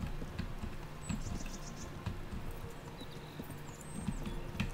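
Hoofbeats of a horse ridden at speed in Kingdom Come: Deliverance, a steady, fast clip-clop running close and continuous across the whole stretch over a low ambient background, with a few brief high whistling tones above.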